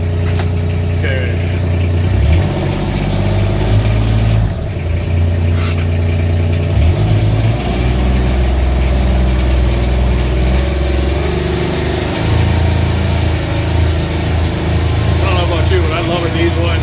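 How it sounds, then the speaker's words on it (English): A diesel engine on a 2018 Kawasaki Mule Pro DX idles steadily up close, a continuous low rumble running throughout with occasional shifts in pitch, and some background noise over it. "I love a diesel engine."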